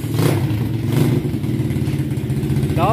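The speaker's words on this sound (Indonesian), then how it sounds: "kita akan test ride unit Asia Motos 125cc dong" A 125cc Asia Motos trail motorcycle with a manual clutch idles and revs close by, a loud steady engine drone with a slight rise in pitch near the end.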